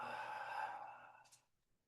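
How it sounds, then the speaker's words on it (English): A single long, audible breath during a balance-focused yoga exercise, a soft, steady airy exhale like a sigh that fades out after about a second and a half, close and alone. "A full inhale. A complete exhale."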